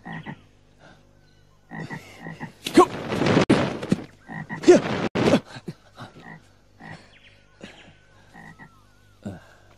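A frog demon in a Ramayana stage drama croaks in loud, rough bursts, several deep grunting croaks clustered in the middle with softer calls around them, close and prominent.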